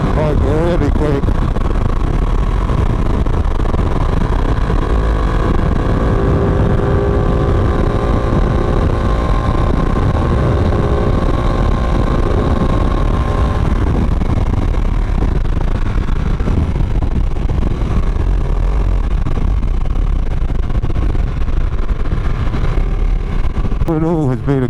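Engine of a 2017 Ducati 959 Panigale on a test ride in poor weather, a loud continuous roar with heavy wind rush and drone throughout and only slight changes in pitch.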